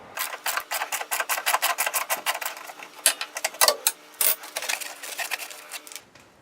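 A ratchet removes the second rear strut bolt on a 1999 Ford Contour, producing rapid close clicking in uneven bursts that run for several seconds before stopping, with no voices.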